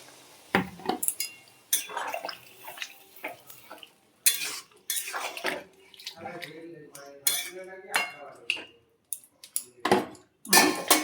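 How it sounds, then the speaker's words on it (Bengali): Hot water pours into a pan of pea and potato curry, splashing and sizzling in short bursts mixed with stirring and the clink of a spoon against the pan. "এবার জল দিয়ে দিচ্ছি"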